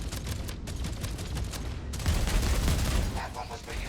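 Ship weapons blasting away during a space battle in Jump Space, a dense, continuous barrage of rapid shots that grows louder and heavier partway through, with no talking.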